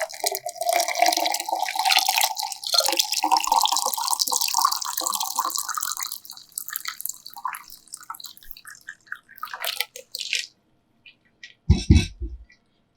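Iced water is poured into a mint lemonade with baking soda, a splashing, trickling stream that thins to scattered drips, ending with a few clinks close by.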